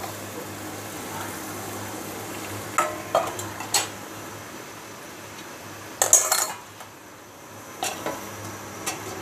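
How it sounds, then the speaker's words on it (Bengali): Mutton cooked with spices in a pot for kosha mangsho, stirred with intermittent scraping and clinking of a utensil, then a sharper metallic clatter as the lid goes on, over a steady low background hum. "মাংসের সাথে সব মশলাটা ভালোভাবে মিশিয়ে নিয়ে এবার ঢেকে দিব"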